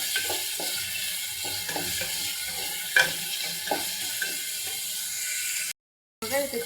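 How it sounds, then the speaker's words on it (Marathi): Chopped onion and tomato fry in hot oil for a Kolhapuri mutton tambda rassa, a steady broadband sizzle with clicks of stirring, briefly dropping out near the end before resuming. "एक मोठा कांदा सॉफ्ट होईपर्यंत परतवून घ्यायचं आहे चांगलं"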